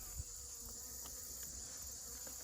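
Honeybees buzzing around a watering hole in mid-September, a steady, dense insect drone that holds throughout, with faint brief clicks and no voices.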